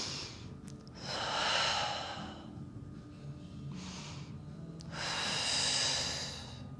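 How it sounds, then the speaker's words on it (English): Paced pilates breathing comes as two long, audible breaths, a slow inhale then a strong airy exhale, close to the microphone with a quiet pause between them. "Breathe in. Don't rush this. Hold. Exhale, close."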